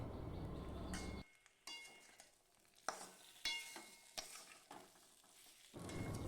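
Papaya and potato with cumin sauté in a pan over medium heat, a soft sizzle broken by intermittent stirring scrapes and clinks, close and fairly quiet, with no talk.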